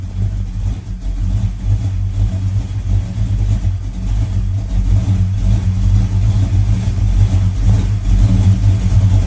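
A 1985 Chevy C10 engine on Aces Killshot fuel injection, held on the throttle to stay running, gives a loud, close, continuous revving rumble that swells and wavers throughout with no talk.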